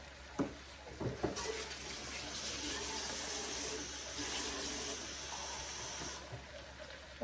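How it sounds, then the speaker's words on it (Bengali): A small amount of water pours into a pan of okra and prawns, a steady close splashing stream lasting several seconds after a few light knocks, then tapering off. "অল্প পানি দিব বেশি না"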